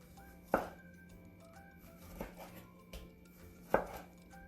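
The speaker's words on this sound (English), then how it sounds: "we've got our tomatoes, so I'm going to slice those" A kitchen knife slices tomatoes on a board for chunky salsa, giving a few sharp, separate chops spaced apart, quiet and close by, with no talking.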